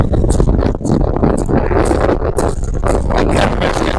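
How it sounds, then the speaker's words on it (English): Strong wind at a rough seaside beach roars and buffets the microphone continuously, loud and unbroken throughout. "It's so windy."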